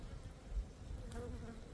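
Honey bees buzzing around an opened, strong hive during a March apiary inspection, a faint steady hum low in the background with no one talking.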